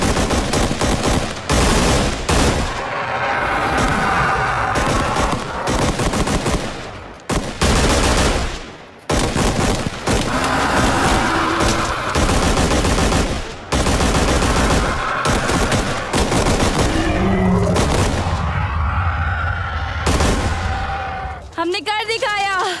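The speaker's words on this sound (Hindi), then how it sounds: "सिस्टम गोली चलाने के लिए तैयार है। टारगेट देखो और खत्म करो। गोलियां दागने के लिए तैयार।" Gunfire from a Hindi-dubbed Hollywood action movie, with loud rapid bursts of automatic shots in repeated volleys and brief gaps, mixed with other action effects over roughly twenty seconds.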